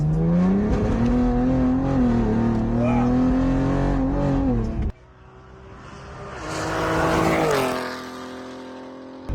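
A 625 whp twin-turbo Cadillac ATS-V driving on a road, engine droning and climbing through revs, a gear change dropping the note, then surging again loud and close; a voice briefly exclaims.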